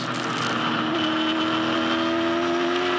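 Onboard engine of a 2006 V8 Supercar driven by Lowndes at Oran Park, a loud, sustained roar holding a steady high pitch with a slight rise, then cruising near-constant.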